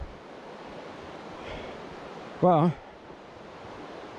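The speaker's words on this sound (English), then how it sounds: "that's a pretty raging river down there" A raging river rushes far below a mountain trail on the Appalachian Trail, a steady broadband roar that holds constant throughout, with a brief spoken word near the middle.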